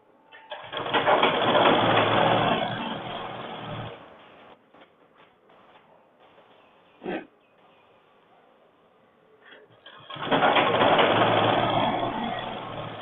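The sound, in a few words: sewing machine stitching shirt sleeve along fold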